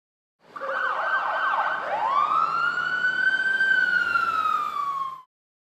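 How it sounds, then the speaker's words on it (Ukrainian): A loud wailing fire engine siren rises and then sweeps in a long, steady tone before falling away, heard clearly on its own. "Ще у машини є сирена, щоб її було не тільки видно, а й чути."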